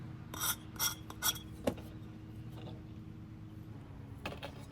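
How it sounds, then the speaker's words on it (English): Hand filing on a piece for a coastal trivet, three quick rasping strokes near the start followed by a few lighter scrapes and a short burst near the end, close and fairly quiet. "I have to also do my filing on the other piece."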